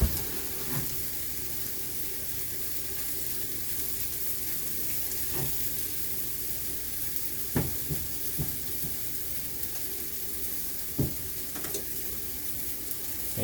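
Garlic and mushrooms sizzling in a frying pan, a steady close hiss with a few sharp clinks from stirring, no talking.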